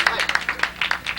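An audience claps after a short comic poem at a stand-up show, a brief patter of applause with distinct claps, while a voice carries over it.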